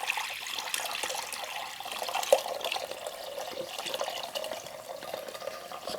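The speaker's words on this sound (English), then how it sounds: "this is going to splash a little bit" Liquid pours and splashes steadily into a Crock-Pot while potato soup is being made, a continuous close watery rush with small splashy bursts throughout.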